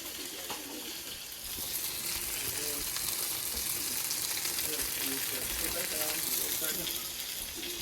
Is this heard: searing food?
yes